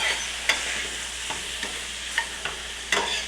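Mushrooms frying in oil in a pan give a steady, close sizzling hiss, with a few sharp clicks and scrapes from stirring and no voices.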